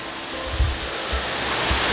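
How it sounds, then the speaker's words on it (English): A waterfall swollen by days of heavy rain roars steadily at close range, a dense, continuous rush with a few deeper surges and no voices over it. "so you can see how full the waterfall is"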